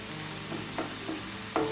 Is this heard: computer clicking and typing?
no